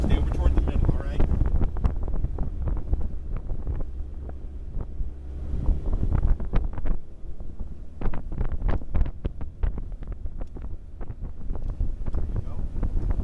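A motorboat out on the water in 2012, with a steady low engine-and-hull rumble and heavy wind buffeting the microphone throughout, broken by sharp knocks and splashes. Voices come and go faintly beneath the roar.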